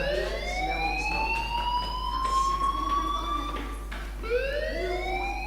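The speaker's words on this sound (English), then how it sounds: "do you hear that fire alarm?" A wailing fire alarm in the Life Is Strange video game sounds as two long rising, sweeping electronic tones, loud and steady, the second starting just after the first ends, with no talking.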